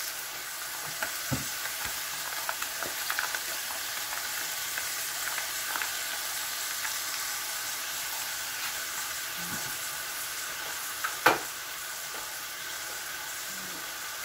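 Soaked sotanghon glass noodles being stir-fried with sautéed garlic and oyster sauce in a pan, a soft steady sizzle with occasional scraping and clinking of a utensil, one sharper knock near the end.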